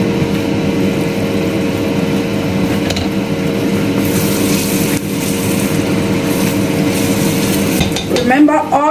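Tomato sauce for party jollof rice simmers over very low heat in a pot while it is stirred, giving soft scraping and stirring noises over a steady broadband hum, with a brief metallic clank near the end.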